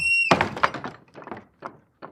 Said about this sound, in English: Raspberry Juice heard the shout and immediately closed the door.